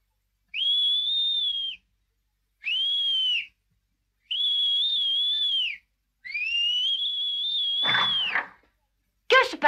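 Four long, piercing whistles made with the fingers, each held steady and separated by short gaps, loud and close, with a clatter at the end of the last one, in an animated series.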